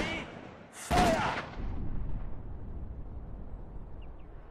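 Artillery fire in the World War II strategy game Sudden Strike 4: a single loud, sharp blast followed by a rumbling decay that fades into steady battlefield ambience.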